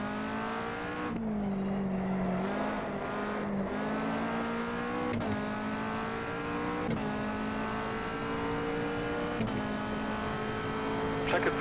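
A Caterham 360R at Cadwell Park in the racing game Automobilista, its engine droning steadily and loud with rising and falling revs through gear changes, sounding alone without talk.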